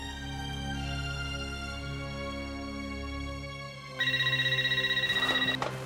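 On an outgoing call, a telephone rings with a steady electronic tone, then switches to a louder, rapidly pulsing ring near the end, heard alone without talk.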